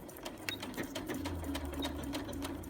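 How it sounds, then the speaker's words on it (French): A sewing machine stitches along the edges of a kimono belt, a close, steady rapid needle rhythm running without pause for the whole few seconds. "À distance de 5 à 10 mm du bord, nous allons coudre."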